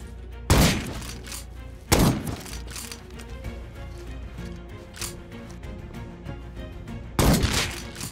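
Gunshots in the survival game Rust sound as three loud, sharp cracks spaced seconds apart, each with a short booming tail, over a low murmur of background game ambience.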